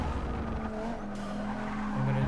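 Car tires skid and squeal in Forza Motorsport 6, a sustained high screech over a loud racing engine drone, rising slightly at the end.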